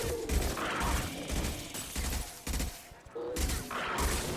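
Assault rifle in Mass Effect 2 fires steady, rapid bursts, loud and close, with brief pauses between volleys and a few other combat sounds mixed in.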